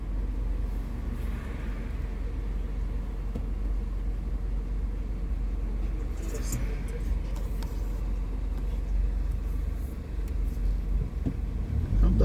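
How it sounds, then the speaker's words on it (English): Heavy afternoon traffic on Old York Road in Abington, heard from inside a moving car as a steady low engine and road rumble, with passing vehicles swelling faintly in the background. "traffic is just absolutely terrible this afternoon on Old York Road in Abington"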